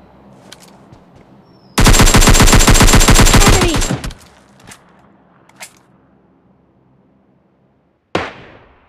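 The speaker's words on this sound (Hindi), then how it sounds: "AKM का इतना अच्छा स्प्रे के बाद भी मतलब वो बिल्कुल भी नॉक नहीं हो रहा था" Sustained automatic AKM assault rifle spray in a battle royale video game, a loud dense burst of rapid shots lasting about two seconds, followed by scattered quieter distant shots and a final sharp shot.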